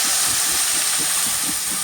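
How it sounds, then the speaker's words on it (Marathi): Ghee tempering for Maharashtrian kadhi with gole, sprinkled with fresh coriander, gives off a steady, dense sizzling hiss that holds evenly close up, with no voices. "खमंग फोडणी झाली पाहिजे तुपाची,"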